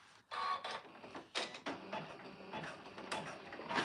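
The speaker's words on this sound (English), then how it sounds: "I'm gonna do a basting stitch that does the center and the outside" A sewing machine runs a basting stitch around a marked center point, giving bursts of rapid mechanical ticking and whirring separated by brief pauses, close and fairly faint with no one talking.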